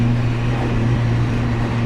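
A Mazda MX-5 fitted with a loud aftermarket exhaust holds a steady, droning engine note with a strong low hum, close and unbroken.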